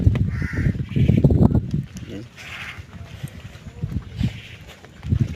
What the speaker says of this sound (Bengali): এই যে কাকারা মাছ নিয়ে যাচ্ছে